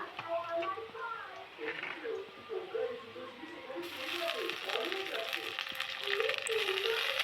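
Ginger and garlic paste stirred in a hot frying pan, a soft sizzle and occasional scraping running steadily beneath a voice, the frying growing brighter and louder partway through.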